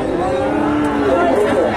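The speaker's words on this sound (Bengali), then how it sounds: "প্রচুর গরু আমদানি হয়েছে ফ্রিজিয়ান।" Friesian cattle low at a large North Bengal cattle market. A loud, close, sustained moo carries over a busy crowd murmur.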